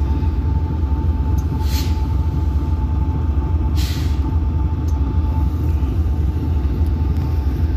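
Diesel locomotive of the Tulpar Talgo train gives off a loud, steady low rumble with a constant hum, and a couple of brief hissing bursts rise over the drone.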